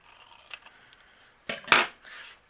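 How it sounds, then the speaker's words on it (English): A few crisp scissor snips at close range cutting vellum for a card, quiet at first and then a louder cluster of sharp cuts near the end. "I am going to fishtail the end, just using my scissors."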